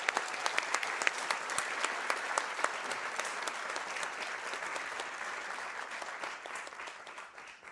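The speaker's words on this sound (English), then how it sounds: "Can we give one more round of applause for our amazing graduates?" Sustained applause from an audience honoring graduates at a senior honors ceremony, dense steady clapping throughout that tapers slightly toward the end, with no speech over it.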